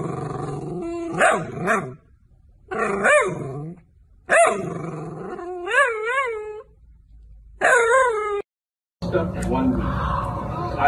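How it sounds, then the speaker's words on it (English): A dog howls and yips in several drawn-out, wavering bursts in the morning, fairly close and loud, with short pauses between them and a person talking in between. "Is that your morning howls? You a morning howler?"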